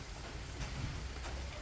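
Steady rain falls outside a house, a soft, even hiss with no speech.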